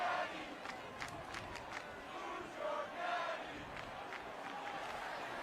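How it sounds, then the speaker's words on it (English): Stadium crowd at an FCS football playoff game, Montana State versus Montana, a distant roaring mass of cheering voices with rising and falling shouts, heard continuously at moderate level. "Crowd trying to quiet themselves down, but they can barely be contained."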